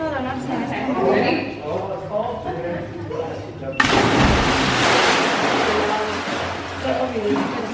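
At a Punta Cana resort, something plunges into water with a sudden loud splash midway, followed by sustained churning water noise, with people chattering before and after.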